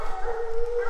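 Hunting hounds baying on a bear trail in the North Georgia mountains, heard as one sustained, fairly loud tonal howl with no talk over it.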